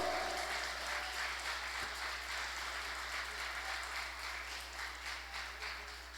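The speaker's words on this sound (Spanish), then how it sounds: "Dele un fuerte aplauso al Señor." Steady applause from a church congregation, continuous and fairly even throughout, with no talking over it.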